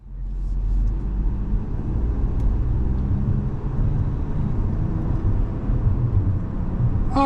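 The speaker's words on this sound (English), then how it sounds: "we're out on the road in this 25 Buick Envista Avenir" A 2025 Buick Envista Avenir drives on the road, heard from inside as a steady low rumble of road and engine noise, continuous and fairly loud, with no talking.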